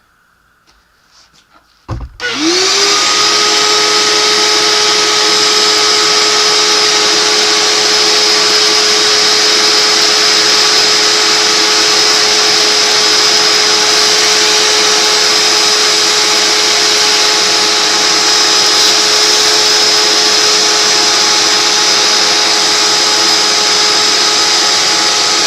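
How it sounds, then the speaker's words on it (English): A vacuum cleaner pulls a spoke nipple through a Giant P SLR 1 bicycle rim. It switches on after about two seconds with a rising whine, then drones loud and steady without a break. "then we'll take the vacuum cleaner and draw it through."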